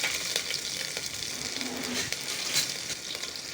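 Chopped garlic, ginger and green chili with cumin seeds fry in a pan, a close, even sizzling hiss with a few scraping stirs of a spoon, and nobody speaking.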